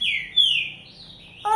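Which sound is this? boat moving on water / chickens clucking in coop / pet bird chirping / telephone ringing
pet bird chirping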